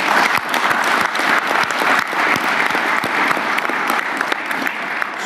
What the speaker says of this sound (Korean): 우리 격려의 박수 한번 부탁드릴까요?